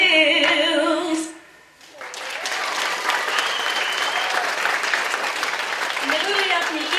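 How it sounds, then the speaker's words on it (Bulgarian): Concert audience applause swells into sustained, dense clapping from a large crowd after music fades out, filling the rest of the moment at steady volume. "Да ги приветствам още веднъж с аплодисменти"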